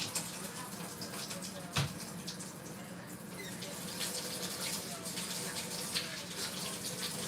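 A tap runs in a steady, close rush of water while hands are washed before baking, with a brief knock partway through.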